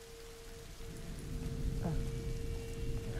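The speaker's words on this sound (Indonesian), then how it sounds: "Aduh, hujan lagi dah." Rain in A Plague Tale: Innocence, a steady patter of drops on surfaces that thickens after the first second, with a low rumble and a constant tonal hum in the background.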